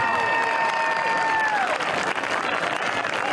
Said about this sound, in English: Give Gracie a big another round of applause.